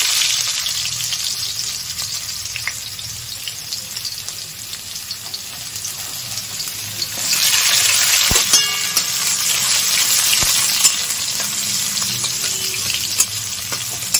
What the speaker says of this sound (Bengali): দেখো আমার লাল লাল রসুনটা ভাজা হয়ে গেছে